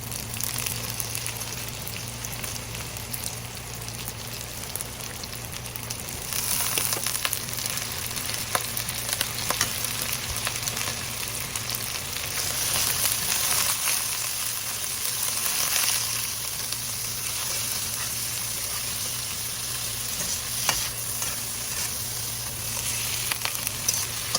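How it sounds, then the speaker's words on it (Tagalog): Onions and leftover meat sautéing in a pan for a Filipino bean sprout and tofu stir-fry, giving a steady, close hiss of frying throughout with occasional stirring scrapes and no talk. "sama niyo na po yung, may natira po kasi akong karne rito. So, isama ko na po."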